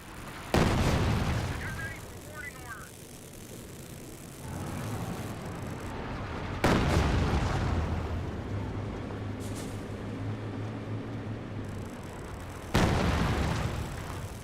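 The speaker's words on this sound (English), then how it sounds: "Got now the heat barrage firing away over here." A HEAT artillery barrage in the Company of Heroes 2 strategy game: three heavy, booming blasts spaced roughly six seconds apart, each with a rumbling tail and low background battle noise between them.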